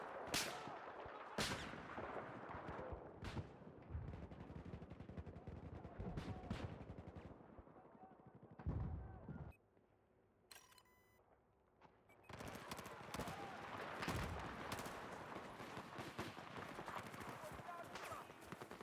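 Gunfire in the Battlefield 4 multiplayer video game, bursts of shots and loud impacts from sniper fights spread across the clip, with a quieter lull partway through and a player talking over the game sounds.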